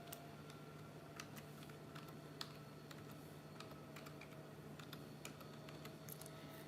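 Someone types an email address on a computer keyboard: a quiet run of quick, uneven key clicks, near and light, over a faint steady room hum.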